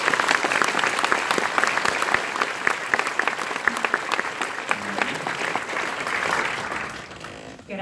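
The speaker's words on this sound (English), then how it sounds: "Let's have a round of applause for Michael." A convention crowd at Fan Expo Toronto bursts into sustained applause and some cheering, loud and dense for several seconds before tapering off near the end.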